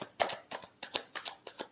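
Tarot cards being shuffled by hand: a quick series of soft, crisp riffling slaps in an irregular rhythm, close and faint, with no talking.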